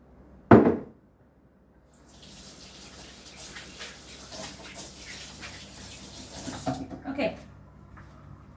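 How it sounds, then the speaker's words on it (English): A kitchen tap runs while hands are washed beneath it, a soft steady stream of splashing water lasting several seconds after a sharp knock at the start, with a few louder splashes near the end. "I'm just going to give my hands a little wash here"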